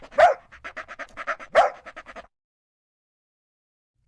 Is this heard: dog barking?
yes